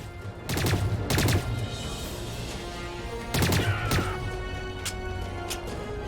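Several bursts of rapid video game gunfire, loud and close, in short volleys separated by brief pauses, with a steady background hum.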